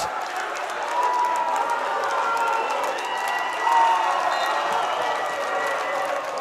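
A home crowd at a boys' high school basketball game cheers and applauds, a broad sustained roar of clapping and shouting with a swell partway through.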